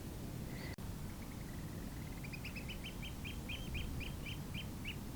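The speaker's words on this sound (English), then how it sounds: "And the sound of the birds." Birds call in a steady series of repeated chirping notes on a river foreshore while mudlarking, fairly faint against a constant outdoor hiss, with a brief click early on.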